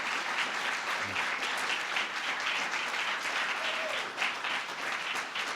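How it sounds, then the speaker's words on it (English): A crowd applauds debate candidates at a Hancock County coroner debate, a dense, sustained wash of clapping from many hands lasting several seconds, steady and fairly loud. "give them all a big round of applause for doing that"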